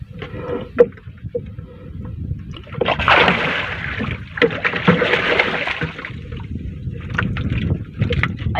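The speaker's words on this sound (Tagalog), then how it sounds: "Sumahangin na, mahangin." Gusty wind at sea buffeting a microphone aboard a fishing boat, with low rumbling noise that swells and fades, a few small knocks and water sounds.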